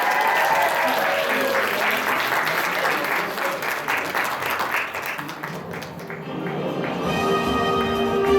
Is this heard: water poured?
no